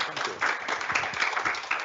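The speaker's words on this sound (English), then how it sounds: "please, a round of applause" A round of applause after a talk at RMIT, a small group clapping with distinct slaps at moderate loudness, mixed with murmured voices.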